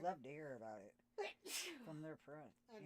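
A single sharp sneeze bursts out between stretches of someone talking, loud and close.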